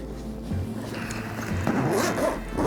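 A zipper on a Shimoda camera backpack runs smoothly after being lubricated with chapstick, giving one continuous close-up zipping rasp that lasts a couple of seconds with no speech.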